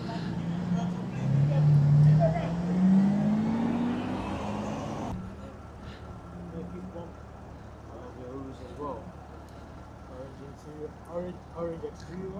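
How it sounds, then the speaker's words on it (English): A Rolls Royce with orange exterior revs loudly nearby, the engine note rising over a couple of seconds before fading as it drives off, then quieter street noise and voices talking. "Please give me a rev before you leave."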